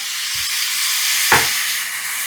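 Mushrooms frying in a pan over medium heat, a steady bright sizzle with two short scraping stirs, the second one louder, close and without talk.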